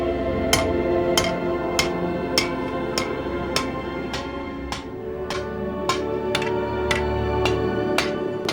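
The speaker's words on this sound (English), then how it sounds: "I'm going to hold it over the edge of the anvil, hit it down, and then back into itself to form a right angle" A hammer strikes a steel bar on an anvil at a steady, even rhythm, about fifteen sharp ringing metallic blows close by with no talking.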